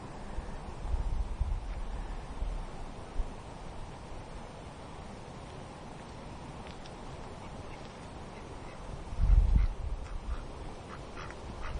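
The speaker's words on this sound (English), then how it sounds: "Little brown ducks." Little brown ducks in Margam Park give faint, scattered quacks over a quiet outdoor background, with a slightly louder burst of calls near the end.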